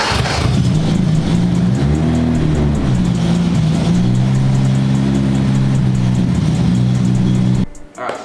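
An untuned, carbureted Datsun 240Z engine fires up for the first time and runs loud and rough, with a lumpy, uneven idle that rises and falls for about seven seconds before cutting off abruptly.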